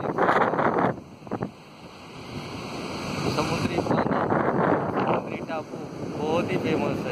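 A Kerala seaside beach, where wind buffets the microphone and surf washes in the background, with people talking over it throughout.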